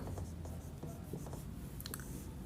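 Pen or chalk writing during a Class 10 maths lesson on the substitution method, a steady scratchy scrawl with short strokes running throughout, fairly close, with no talk over it.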